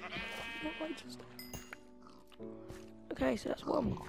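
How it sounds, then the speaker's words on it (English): A sheep in the Minecraft video game bleats as it is being killed, several short electronic-sounding cries over game noise, with a person speaking briefly toward the end. "Killing the sheep for a bed."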